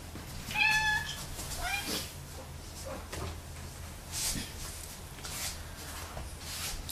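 A house cat gives a short, clear meow close by, then softer rustling and faint household knocks follow at low level.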